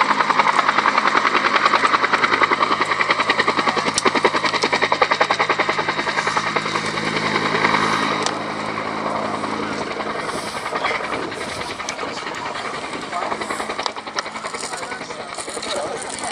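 A Bell UH-1B Huey helicopter flies at an airshow, its rapid rotor chop loud and steady at first, then easing slightly as it moves away, with a commentator talking over it.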